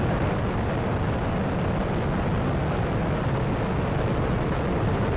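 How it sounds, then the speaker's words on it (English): Space Shuttle Endeavour's boosters ignite and lift off in a dense, thunderous roar, broad and crackling, loud and unbroken throughout without voices. "Booster ignition and liftoff of Shuttle Endeavour"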